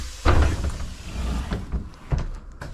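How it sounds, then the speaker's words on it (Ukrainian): An Electron city bus door closing: a low mechanical rumble and sliding thud, then a couple of softer knocks, close by under steady engine hum. "Зачиняю свої двері."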